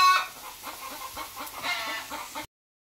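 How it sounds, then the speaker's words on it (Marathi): A hen clucks in a rapid series of close, rhythmic clucks that continue for a couple of seconds before stopping abruptly, with no speech over them. "cock cock cock cock cock cock करते बघा आमची कोंबडी"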